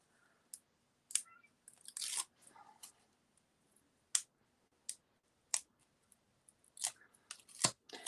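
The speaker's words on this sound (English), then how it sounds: "because it's a circle, I did have to cut that piece in half" Scissors snip through a paper circle for a Valentine card, a series of short, crisp, close cuts spaced irregularly with brief quiet gaps between them.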